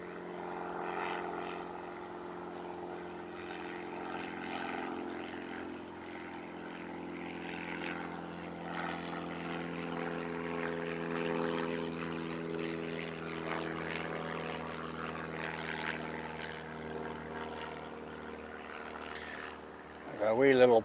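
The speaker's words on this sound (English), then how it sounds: "A wee little Piper Tomahawk going by." A small Piper Tomahawk light propeller plane passes at Christchurch Airport with a steady, droning engine hum that holds for about twenty seconds and then swells louder right at the end, with no voices.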